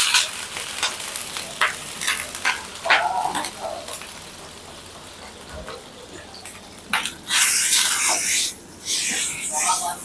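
Sharp hissing bursts as water hits a hot oiled griddle, several loud sizzles and spurts rising and fading, with a brief surge of steam near the end.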